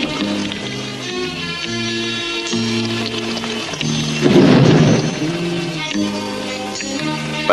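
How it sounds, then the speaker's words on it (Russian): Steady rain hisses beneath music, and a loud rumble of thunder swells midway before fading. "Похоже на дождь"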